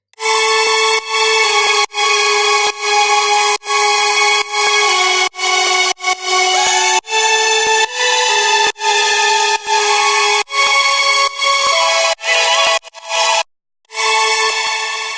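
Serum synth leads carrying the top end of a drop: bright, layered sustained notes in a repeating melodic pattern, with short gaps between phrases and one brief dropout near the end.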